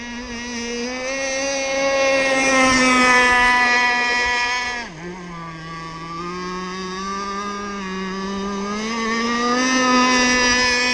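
Electric motor of a rebuilt RC BoatWorks T-44 catamaran whines steadily on open water, a sustained high-pitched tone that dips briefly as the throttle eases, then climbs back up.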